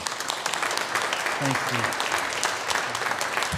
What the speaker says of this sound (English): Let's give them another round of applause again.